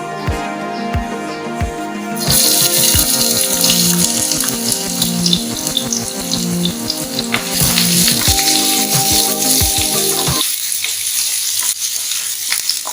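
Loud, steady sizzling of chopped onion and garlic hitting hot oil, with frequent clinks of a utensil stirring in the pan and a sudden quieter stretch near the end.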